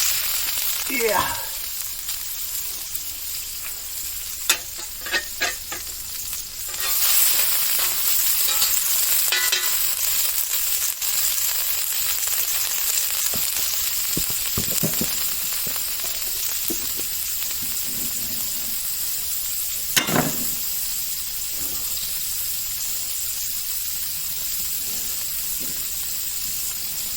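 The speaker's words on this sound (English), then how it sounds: "Let's see how this sizzles up." Butter sizzling on a very hot grill: a steady bright frying hiss that swells after a few seconds and holds for the rest, with occasional clinks and soft handling noises.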